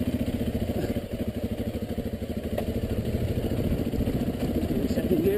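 A motorcycle engine running while riding, a steady throbbing low rumble at close range with a rapid even pulse throughout, holding a constant level.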